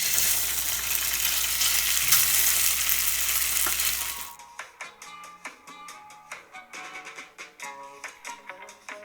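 Food fries in hot oil in a pan with a loud, continuous sizzle for about four seconds, which then cuts to quieter background music.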